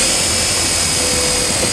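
A self-tapping ground screw driven with a 1/4 inch socket on a 2015 Volvo XC90, a loud continuous high-pitched whine of a power driver held steady for under two seconds, close up with no talk.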